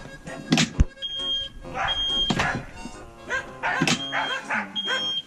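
A reversing sensor on a homemade-modified Ursus C330 tractor gives a series of high, steady electronic beeps at intervals, over a background of voices and some clunking.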